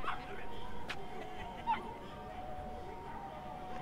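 Dog barking inside the Yakuza Kiwami video game, a couple of short yips standing out briefly over continuous background game sound and music.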